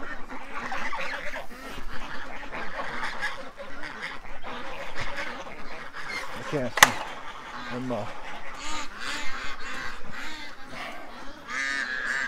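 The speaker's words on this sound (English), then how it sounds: "Oh, geese." Geese honk repeatedly in a busy, noisy outdoor scene, calls overlapping with a man's brief remark and general background commotion.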